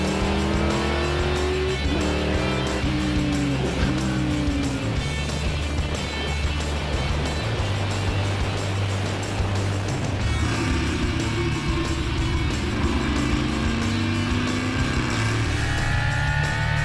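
Racing motorcycle and car at speed on a circuit, loud engine roar with rising and falling revs, passing sweeps and gear changes throughout, no talk.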